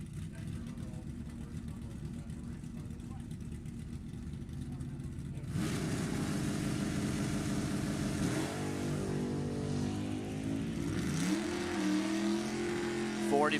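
Drag race cars launching, a Mustang and a 1970 Nova, engines idling loudly before a sudden surge of revving roar that climbs and shifts in pitch, with an announcer talking over it.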